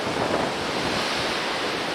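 Strong storm wind roars steadily across the microphone by the Thames at Bourne End, a dense, unbroken rush of blustery noise with no voices.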